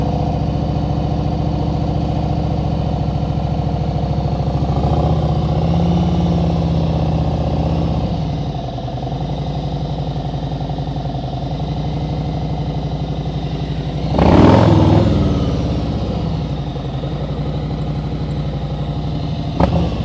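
A motorcycle engine idles and runs at very low speed during slow-speed riding practice in Florida, giving a steady, close rumble with a brief rise in revs partway through.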